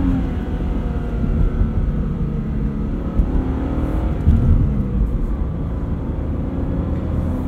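A Subaru BRZ/Toyota GR86 engine drones steadily with a low, rumbling tone and slight swells in pitch as it revs during rev-matched downshifts, heard from inside the car with no speech.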